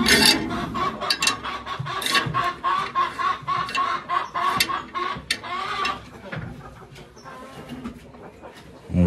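Chickens on a Brazilian farm being weighed on a scale, with loud, busy clucking and squawks from several birds in quick bursts throughout, close to the listener.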